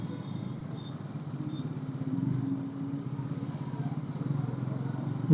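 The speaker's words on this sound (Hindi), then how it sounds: "Traffic traffic traffic traffic." Road traffic with motorcycles rumbles nearby, a low, steady engine drone that pulses and swells in places, moderately loud and without clear breaks.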